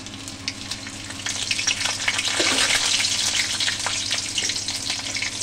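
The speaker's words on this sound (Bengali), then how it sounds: "তার জন্য একটু কালো জিরে ফোড়ন দেব" Nigella seeds tempering in hot oil, a loud bright crackling sizzle that swells and holds steady with popping bursts, close up and alone without voices.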